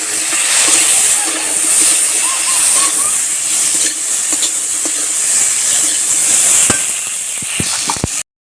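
Cabbage with potato, ginger, cumin and garlic paste sizzles in a hot pan, a loud continuous hiss close by, with occasional clinks of a utensil against the pan near the end.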